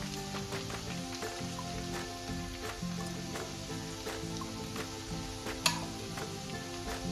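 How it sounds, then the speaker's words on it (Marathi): Moth bean (matki) vegetable stir-fried in a pan, a continuous close sizzle with rhythmic scraping and stirring strokes throughout, and one sharp clink near the end. "आणि आता आपल्याला हे पुन्हा अगदी व्यवस्थित असं परतून घ्यायचं आहे"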